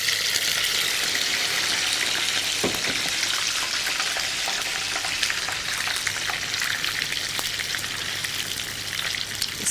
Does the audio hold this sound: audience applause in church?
no